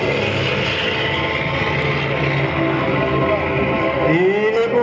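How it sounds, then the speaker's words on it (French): A North American B-25 propeller bomber at an air show, its piston engines droning loudly and steadily with a rising whine near the end as it passes close; a voice talks faintly underneath. "225, il est beau le B-25."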